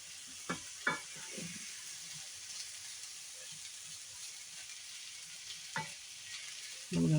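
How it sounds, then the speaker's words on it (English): Leftover rice stir-frying in oil with onions and garlic, a steady broadband sizzle throughout with a few sharp scraping clicks of the utensil near the start and middle, and a louder clatter at the very end. "I cooked my onions and garlic in the cooking oil. So just the rice stirred up here."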